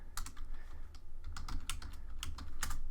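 Fingers type on a computer keyboard in quick, uneven bursts of close, crisp key clicks over a low background hum, with no talking.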